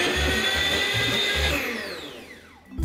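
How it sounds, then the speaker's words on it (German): An electric hand mixer whirs loudly and steadily as it beats egg yolk and sugar, with a rhythmic low thumping as the beaters knock the bowl, easing off toward the end. "Eigelb und Zucker mit dem Mixer"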